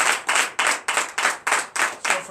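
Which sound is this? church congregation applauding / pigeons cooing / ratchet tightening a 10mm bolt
church congregation applauding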